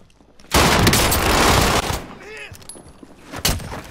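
Loud, sustained automatic gunfire in a video game, a dense close burst lasting over a second followed by scattered shots and game effects.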